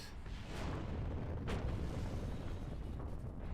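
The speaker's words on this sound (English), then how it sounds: "the explosions are getting loud out there" Steady rumbling explosions in the Kerbal Space Program video game fill the mix with a deep, continuous roar, punctuated by a few sharper bursts and cracks.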